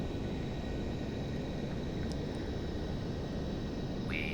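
Passenger jet engines throttling down during a Grand Canyon approach in the Aerofly FS 2 flight simulator game, a steady broad roar that holds at an even level throughout.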